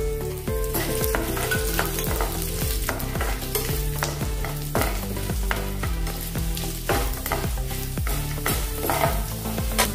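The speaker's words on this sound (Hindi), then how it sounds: "अभी इसमें हम सूखी वाली लाल मिर्च डालेंगे" Dried red chillies sizzle as they are stirred in hot oil, making a steady frying crackle under rhythmic background music.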